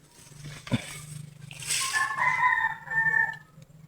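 A rooster crows once at moderate distance outdoors among native trees, a rising then sustained call with a brief thump and low background hum beneath, no talk over it.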